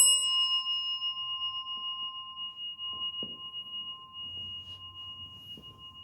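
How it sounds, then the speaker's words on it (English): A bell rung during a Zen service gives one clear ringing strike that hums on with a long, fading sustained tone, while faint soft knocks and movement sounds occur in the quiet room behind it. "another bell"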